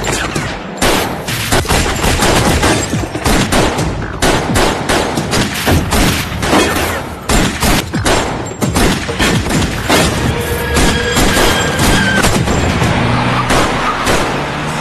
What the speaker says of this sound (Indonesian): Terjadi tembak-tembakan di situ yang menewaskan 2 agen Baeksan.